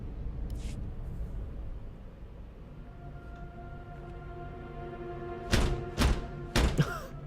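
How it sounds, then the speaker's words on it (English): A door being knocked on in the video game Star Wars: The Old Republic: three loud, close thuds near the end, spaced about half a second apart, after a quiet ambient hum. "Just bang on the door."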